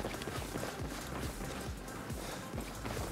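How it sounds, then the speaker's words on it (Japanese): Footsteps in the video game Battlefield 4 on the Dragon Valley map, a quick run of soft thudding steps heard steadily beneath a dense bed of battlefield ambience. "足音したな"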